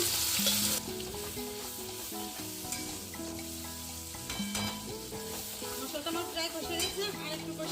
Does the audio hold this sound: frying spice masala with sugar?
yes